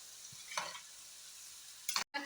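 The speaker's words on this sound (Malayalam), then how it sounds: "അപ്പം ആദ്യം തന്നെ അതൊന്ന് ഒരു ഹാഫ് ഫ്രൈ ആയിട്ട് എടുക്കാം നമുക്ക്" Potatoes half-frying in mustard oil in a pan for Kashmiri dum aloo, with quiet sizzling and a couple of short stirring scrapes and bursts against a low background.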